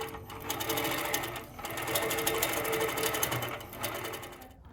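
Handi Quilter Moxie longarm quilting machine with Pro-Stitcher Lite stitching rows across a quilt, a steady close, loud mechanical whir with fast regular needle pulses, briefly easing twice before resuming.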